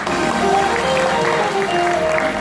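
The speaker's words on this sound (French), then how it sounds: "M. Thierry Sarah, que vous applaudissez." An audience claps steadily in a dense wash of applause at an Airbus aircraft delivery ceremony for Air Côte d'Ivoire, with a few voices faintly audible underneath.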